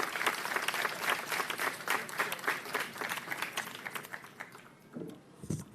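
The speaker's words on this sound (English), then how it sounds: "So I want you to give Sharon a big round of applause." Audience applause at an outdoor mayoral event, steady clapping from a crowd for several seconds that thins out toward the end as a voice begins near the microphone.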